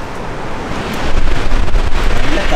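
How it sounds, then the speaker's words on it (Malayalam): Strong gusting wind during a hail and snow shower in Ireland, loud and close, buffeting the microphone and swelling stronger in the second half. "നല്ല കാറ്റ്, നല്ല കിടിലൻ കാറ്റ്"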